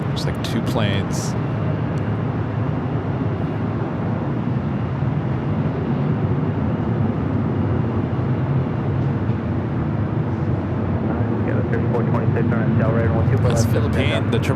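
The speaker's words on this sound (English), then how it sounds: "That's Philippine, the 777-300ER coming in from Manila, heading toward the north side." Boeing 777-300ER airliner arriving at LAX from Manila, a steady broad jet roar that holds loud and constant throughout, with occasional faint voices over it.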